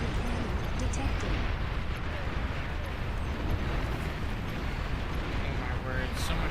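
Dense, continuous flak fire from a real-time strategy battle in Beyond All Reason, a loud sustained rumble of bursts and explosions with no clear gaps, under game announcer voices.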